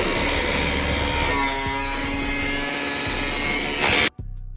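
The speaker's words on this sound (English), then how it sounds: "Got the grinder angled the right way. And it's time to make our first cut." Angle grinder cutting through the two-layer steel hood of a Porsche to fit hood vents, a loud continuous high-pitched shriek of disc on metal that holds steady for about four seconds, then abruptly stops and winds down.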